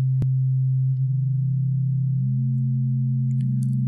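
A steady VCV Rack synthesizer oscillator tone holds, then steps up in small chromatic quantized pitch jumps, with a click near the start; clean and electronic, no voices.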